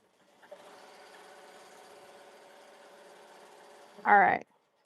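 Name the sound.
sewing machine stitching a Mother's Day design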